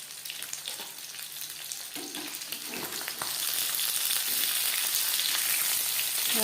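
Pabda fish frying in hot oil in a pan, a dense steady sizzle and crackle that grows louder partway through, with a few light clinks, heard alone with no voices.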